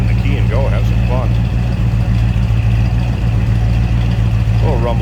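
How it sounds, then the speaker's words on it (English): A 1966 Ford Fairlane 500XL convertible's 390 V8 rumbles at idle with a steady low, throaty drone. Someone talks over it in short bursts. "A little rumble coming out of that 390."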